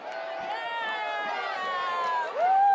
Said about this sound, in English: The crowd out here absolutely going wild.